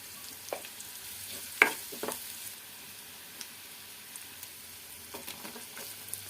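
Mustard seeds, chana dal and turmeric tempering in hot oil with onion and curry leaves, a faint steady sizzle with scattered soft pops and crackles, heard alone at low level.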